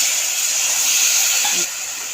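A spoonful of water added to jaggery in a hot pan for peanut chikki makes a loud, steady steamy hiss close up, easing slightly toward the end.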